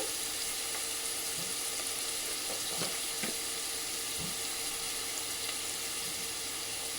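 Onions frying in a pan, a soft, steady sizzle with occasional faint stirring clicks, heard alone at low volume.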